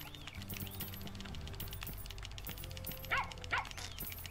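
A small dog barks and yips a few times in the video game Plantera DX on Nintendo Switch, amid a busy, layered electronic soundscape with tonal beeps and steady background noise.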